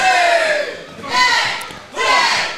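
Wrestling event crowd cheering and shouting in loud surging waves, rising and falling over a couple of seconds, with a commentator's voice under the noise.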